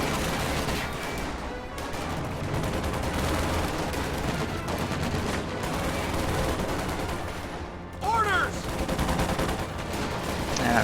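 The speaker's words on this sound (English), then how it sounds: "Panzer Grenadiers firing from medium range" Panzer Grenadiers fire rifles in a WWII strategy game battle, dense crackling volleys and rapid shots layered over rumbling combat noise, continuous and loud with brief whistling effects near the end.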